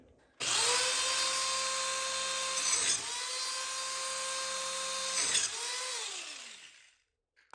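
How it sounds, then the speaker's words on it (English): Circular saw cutting notches in wooden boat battens, a loud whining spin-up that holds a steady high tone through two cutting passes, then winds down to silence. "With the saw cut to the proper depth, it was very simple to chisel out the notches."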